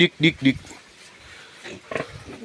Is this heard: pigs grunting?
yes